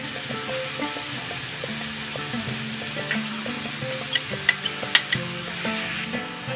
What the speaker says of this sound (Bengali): পেঁপেটাকে একটু নাড়াচাড়া করে নেব, ভাজবো না।